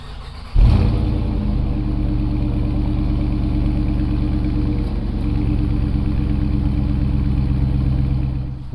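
A 2022 Dodge Charger RT engine fires up by remote start with a sudden loud catch, then settles into a steady, deep, rumbling idle close by, with no talk.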